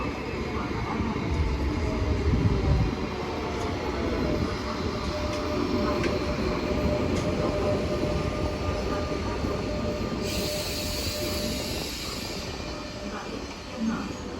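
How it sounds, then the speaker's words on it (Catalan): A train runs through Valencia Norte station without stopping, a loud sustained rumble of wheels and carriages with a faint squeal, under a station announcement that plays throughout. "Este tren no efectúa parada."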